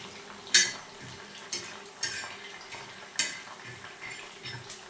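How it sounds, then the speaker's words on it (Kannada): Bitter gourd slices frying golden in a pan, a soft continuous sizzle broken by a few sharp metal spoon clinks and scrapes as the pieces are stirred, no talking. "ಇದು ಫ್ರೈ ಆಗ್ತಾಯಿದೆ ಹಾಗಲಕಾಯಿ."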